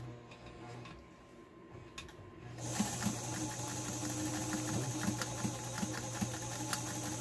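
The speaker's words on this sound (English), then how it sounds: "Right now we're on 0, so we're doing a straight stitch, but watch as we sew." A White 764 sewing machine runs a straight stitch, starting after a quiet stretch with a steady, loud mechanical hum and rapid regular needle ticking that continues to the end.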